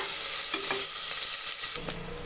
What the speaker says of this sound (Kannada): ಚೆನ್ನಾಗಿ ಫ್ರೈ ಆಗೋವರೆಗೂ ಚೆನ್ನಾಗೇ ಬಾಡಿಸ್ಕೊಳ್ಳಿ. ಈರುಳ್ಳಿ ಬ್ರೌನ್ ಕಲರ್, ಸ್ವಲ್ಪ ಲೈಟಿಶ್ ಬ್ರೌನ್ ಬರಬೇಕು